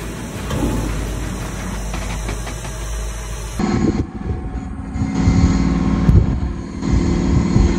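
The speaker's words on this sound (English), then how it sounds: "I operate a skid steer" Skid steer engine running nearby in a loud, steady rumble with a heavy low-end drone, shifting in tone partway through as the sound changes character, no talk over it.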